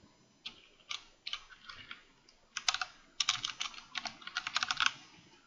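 Quick bursts of typing on a computer keyboard as an account name is entered, clusters of light clicky keystrokes with short gaps between them, close and fairly quiet.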